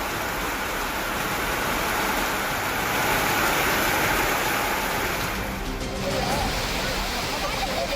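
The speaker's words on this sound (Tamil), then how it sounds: "தற்போது மேற்கு தொடர்ச்சி மலைப்பகுதிகளில் பெய்து வரும் மழையால் அருவியில் நீர் ஆர்ப்பரித்து கொட்டுகிறது" Water roaring down Kumbakkarai waterfall in Theni after heavy rain in the Western Ghats, a loud continuous rushing roar that holds steady throughout, with a voice speaking over it.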